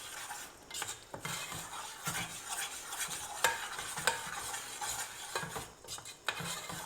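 Channa masala gravy with masala powder being sautéed in oil, a faint, quiet sizzle under repeated scraping strokes and light clinks of a spoon stirring in the pot.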